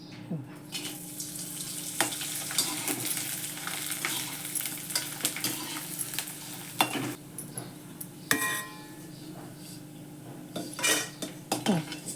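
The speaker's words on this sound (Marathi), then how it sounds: "मी थोडासा तळून दाखवते वाळून किती कमी झाला आहे बघा थोडासा तळून दाखवते" Sun-dried grated potato shreds frying in hot oil in a pan, a loud continuous sizzle broken by repeated metallic clatters and scrapes of a utensil, close up.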